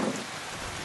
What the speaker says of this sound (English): It started to rain up here on the roof.